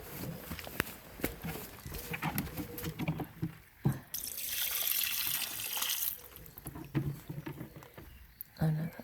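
Water splashes and gurgles as it pours away for a couple of seconds, preceded and followed by voices talking nearby.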